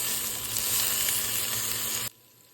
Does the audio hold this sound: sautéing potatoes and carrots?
yes